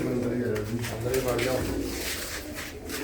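Pigeons coo steadily inside a backyard pigeon coop, a soft low murmur of several birds running throughout while voices talk over them.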